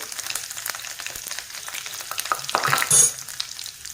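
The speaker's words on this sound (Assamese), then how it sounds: "এতিয়া মই এয়া নহৰু দিলোঁ, থেতালি লৈছোঁ নহৰু দিলোঁ।" Crushed garlic sizzles and crackles steadily in hot oil with panch phoron spices for a local chicken curry. It is close and continuous, rising to a louder hiss near the end.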